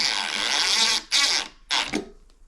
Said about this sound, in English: I get my screw gun. Just line those holes up. Install these screws.